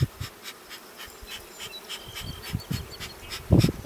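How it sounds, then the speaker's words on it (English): A steady buzzing of many bees fills the air, with individual insects droning closer and louder now and then, ending in a brief louder burst. "bees are going to fly out like crazy"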